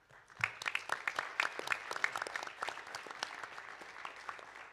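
Applause from the audience at a regional spelling bee: a moderate crowd of distinct, crisp hand claps that builds quickly and continues evenly, fairly quiet overall.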